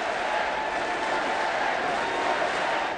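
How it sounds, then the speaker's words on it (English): A large crowd cheering at the Democratic National Convention, a dense, steady roar of voices and applause filling the space without pause. "To a cheering crowd"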